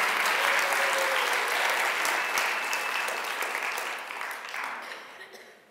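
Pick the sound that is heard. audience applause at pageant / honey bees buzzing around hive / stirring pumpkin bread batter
audience applause at pageant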